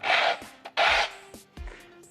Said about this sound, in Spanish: mi hermana, por ejemplo, anda todo el día en pantuflas y camina arrastrando los pies y se escucha como un par de lijas